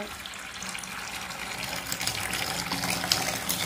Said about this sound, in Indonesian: ini airnya udah keluar